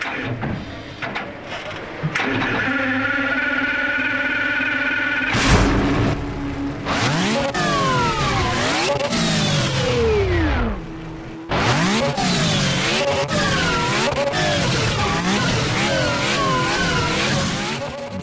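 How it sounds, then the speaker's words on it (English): A car engine in the Roblox game Midnight Chasers revs hard and climbs through the gears, with rising and falling whine as it accelerates and briefly drops off before roaring again. "they've replicated the sound of the car in game really well"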